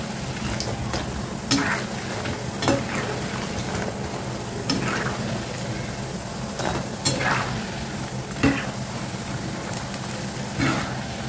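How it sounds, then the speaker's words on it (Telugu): Bellam kommulu pieces fry in hot oil, a steady hiss and crackle with periodic scrapes and clinks as they are stirred back and forth, close and fairly quiet, with no talking. "ఇవి అటు ఇటు కలుపుతూ చక్కగా వేయించుకోండి."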